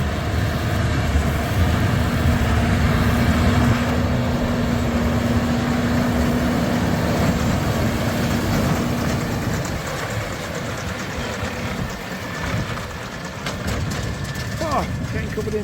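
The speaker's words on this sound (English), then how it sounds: "It's tractor, baler and man working perfect harmony." A tractor pulls a Massey Ferguson 2270 baler through a dusty field, its engine droning loud and steady with rhythmic mechanical clatter from the baler, close by and continuous, with a brief dip partway through.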